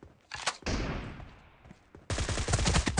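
Rapid gunfire from a team deathmatch shooter video game, with bursts of dense crackling shots, a brief lull, then sustained loud automatic fire to the end.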